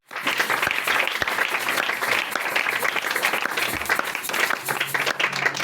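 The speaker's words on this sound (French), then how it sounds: "Acclame très fort pour Jésus" A church congregation applauds for Jesus with loud, sustained clapping that starts abruptly and continues steadily throughout.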